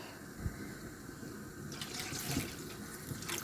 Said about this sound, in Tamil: இந்த கப்பில் ஒரு கப்பு பால் ஊற்றுறேன்